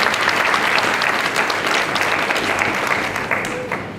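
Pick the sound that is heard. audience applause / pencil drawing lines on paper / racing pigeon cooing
audience applause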